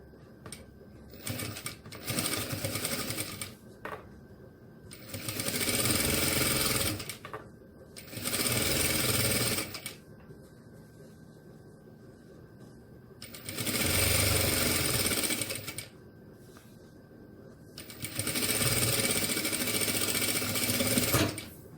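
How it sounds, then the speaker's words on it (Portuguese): A sewing machine sews a 1 cm seam along a fabric strap in several rapid, buzzing runs of a few seconds each, separated by quiet pauses. "E faço a mesma costura de 1 centímetro desse lado aqui."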